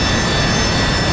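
Harrier jet engine at high power during a vertical takeoff attempt in the DCS flight simulator, a brief loud unbroken roar with a thin high whine.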